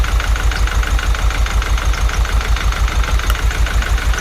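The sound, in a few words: Honda engine running after being started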